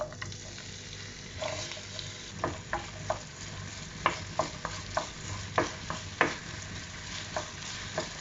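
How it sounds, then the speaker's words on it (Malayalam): Small cubes of potato frying in hot oil in a pan for a Spanish omelette, with a steady low sizzle broken by repeated sharp scraping and stirring clicks; close and moderately quiet, with no voices. "ഇനി നമുക്ക് ഇതിനകത്തോട്ട് എണ്ണ ചൂടായിട്ടുണ്ട്. അപ്പോൾ നമുക്ക് ഇതിനകത്തോട്ട് ഉരുളക്കിഴങ്ങ് ഇട്ട് കൊടുക്കാം."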